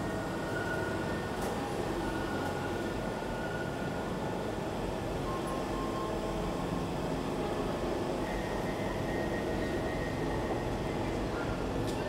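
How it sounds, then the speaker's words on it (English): Riding aboard a London DLR light rail train, a steady rolling rumble and whir of wheels and motor fill the cabin evenly, with faint squeals and clicks surfacing now and then and no talking. "Very smooth light rail ride"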